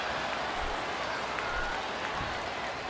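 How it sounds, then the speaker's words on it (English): Capacity crowd at a WWE pay-per-view wrestling arena, a distant, steady roar of cheering and clapping filling the hall, fairly faint and continuous throughout. "This capacity crowd is making their opinions known tonight."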